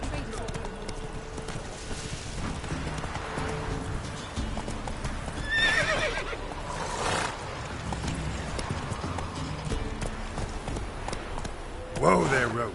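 Roach the horse in The Witcher 3, hooves clip-clopping at a gallop and a clear neigh in the middle, with a second whinny near the end, under steady background game sound and some talk.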